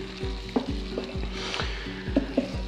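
Tuna cooking in a pan with olive oil, a close sizzle with repeated scraping strokes and small taps as it is stirred.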